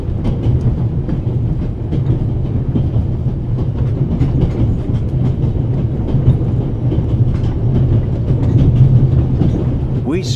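Passenger train running on rails in a video game, a steady rolling rumble with a faint clickety-clack of wheels that continues for the whole stretch, loud and close.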